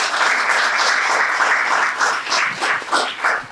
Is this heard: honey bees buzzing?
no